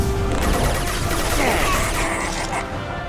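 Dense, continuous sci-fi gunfire and crashing impacts during a firefight aimed at injection tubes inside the Collector Base in Mass Effect 2, loud and unbroken for about three seconds.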